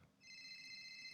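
A telephone rings once in a video game, a steady electronic trill lasting about a second, fairly faint and alone, cut off by a sharp knock at the end.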